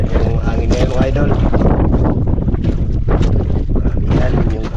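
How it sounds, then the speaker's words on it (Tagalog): Strong northeast monsoon wind roaring across an open microphone on a boat at sea, a constant gusty rush with engine or wave noise beneath and someone talking over it. "Medyo umihan yung hangin ngayon mga idol."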